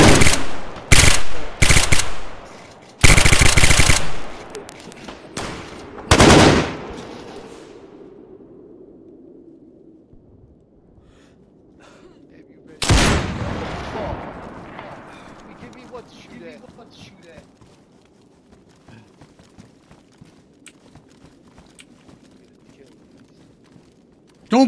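Loud bursts of video-game gunfire in bouts of automatic shots and single cracks, strongest in the first seven seconds, with another burst around thirteen seconds and quieter game ambience between them.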